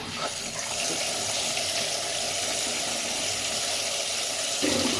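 Chopped khesari greens are washed in a vessel under steadily running tap water, a continuous close splashing rush that holds even throughout with no talking.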